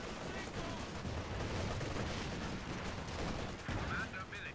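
Machine gun bursts and dense battlefield gunfire from the World War II strategy game Company of Heroes 2, sustained and busy throughout with layered shots and explosions, no one speaking.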